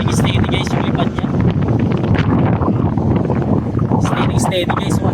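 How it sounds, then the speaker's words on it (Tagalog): Strong wind batters the microphone while a bull kite is flown outdoors, a constant loud rumbling buffet with gusty surges, and people talk over it. "Malakas na hangin ngayon."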